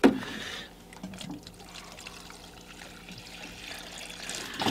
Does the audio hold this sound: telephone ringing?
no